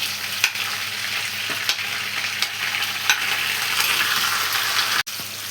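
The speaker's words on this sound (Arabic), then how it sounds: "في نفس الصينيه اللي مكان الفراخ هنزل بالبطاطس." Potatoes fry in a pan that held chicken, giving a steady, dense sizzle at close range, with occasional soft clicks and taps of stirring and one sharp knock near the end, and no voices.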